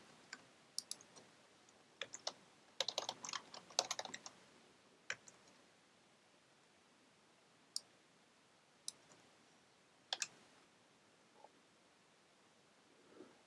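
Sparse keyboard typing, a few quick bursts of clicks followed by isolated single keystrokes, quiet and close in an otherwise silent room.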